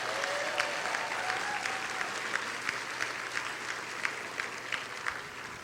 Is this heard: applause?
yes